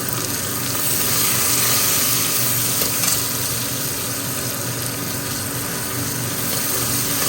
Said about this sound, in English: add the garlic, green chilies and onion and saute them